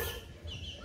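A brief moment of chickens clucking in a noisy, cluttered background.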